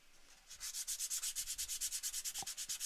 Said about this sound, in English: So out he goes while I sand my piece of wood.